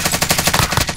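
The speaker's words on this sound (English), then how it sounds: "Oh, he's shooting at me." Rapid automatic gunfire in Call of Duty: Modern Warfare, a dense burst of sharp, evenly spaced shots rattling loudly for about a second with no voices.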